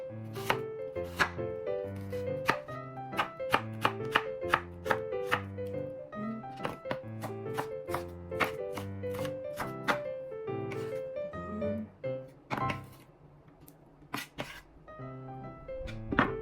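Knife strikes a cutting board in a quick, steady rhythm while an onion is diced into small pieces, the sharp chops close and loud, briefly pausing near the end before a few more cuts.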